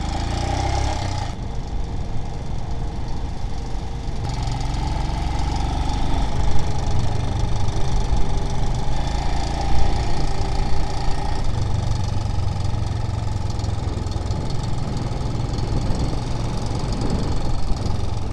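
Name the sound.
motorbike engine running on a Vietnam road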